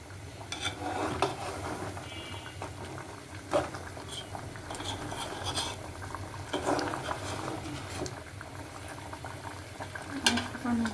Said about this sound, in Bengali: হালকা করে গরম পানি করে রাখছি